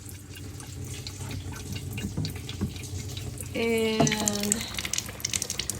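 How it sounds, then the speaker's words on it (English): Tap water runs steadily through an ionizer's replacement prefilters, a continuous hiss and splash with a brief tonal gurgle partway through, close and moderately loud beside faint speech. "We're just going to let it run to make sure that we get the water going through all of our filters."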